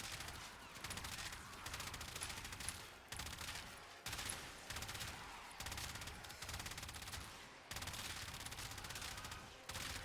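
Phenmor Incarnon rifle fire in Warframe, a steady stream of rapid automatic shots in repeated bursts separated by brief pauses, loud and close throughout.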